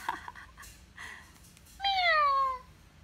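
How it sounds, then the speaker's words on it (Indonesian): A domestic cat gives a single clear, drawn-out meow near the microphone after a few seconds of quiet, with faint background sounds before it. "Tapi Kuminya cuman kucing mah, jadi bilangnya cuman meow."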